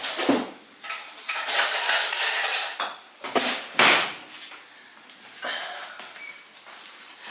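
Metal utensils clatter and clink in a kitchen drawer as a spoon is fetched, a close burst of rummaging knocks and rattles that tapers into softer handling noises.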